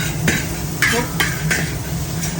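A utensil scrapes and stirs eggs, onions, carrot and scallion frying in a pan, with several distinct scraping strokes over a steady background sizzle.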